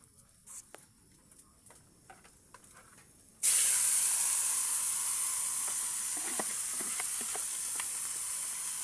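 Banana heart hitting a hot pan with oyster sauce, a sudden loud sizzle bursting in after a few quiet knocks, then a sustained hissing fry with faint stirring clicks, close up and without talk.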